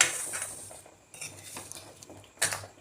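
A spoon clinks and scrapes in a bowl while turmeric and red chilli powder are mixed together for raw amla pickle, a few short sparse strokes at close range.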